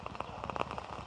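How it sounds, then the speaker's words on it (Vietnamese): Rain patters densely on surfaces during a rainy wedding, steady close drops and splashes with no talk. "Hôm nay trời mưa."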